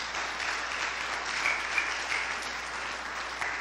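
A church congregation claps together as an offering of praise to the Lord, a steady wash of many hands applauding at moderate distance, continuous and even throughout.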